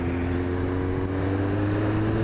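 Loud, steady low engine drone of a heavy vehicle close by, with a constant rumbling hum and no voices.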